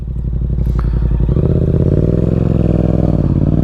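A 2024 Yamaha MT-07 motorcycle engine revs loud and close, a throbbing twin-cylinder rumble that climbs in pitch about a third of the way in, then holds a steady, raspy high-revving drone.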